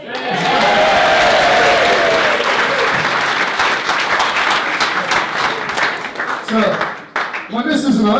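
Wedding guests break into loud, sustained applause during the groom's speech, a dense wash of clapping lasting several seconds with a few voices and cheers rising near the end.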